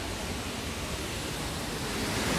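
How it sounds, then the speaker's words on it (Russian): A steady, loud roar of water rushing through a Swiss mountain gorge near the Devil's Bridge, continuous broadband noise with no voices. "Шум воды."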